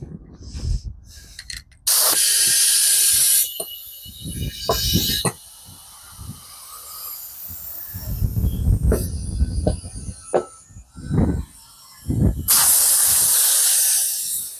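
Compressed air hisses in loud, steady blasts while a tire bead is seated, several bursts of a few seconds each with clanks and quieter handling noises between.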